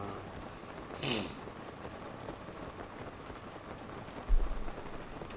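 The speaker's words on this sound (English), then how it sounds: "I wish this rain would die down so I could see where I'm" Steady rain pours down in a video game, a constant wash of drops with a brief burst near the start and a low thunder-like rumble toward the end, heard alone without talk.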